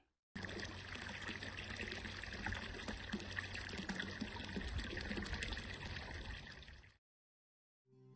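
Spring water bubbles and trickles at Fervedouro, a soft, continuous watery gurgle heard close and fairly quiet for several seconds before cutting out abruptly into silence.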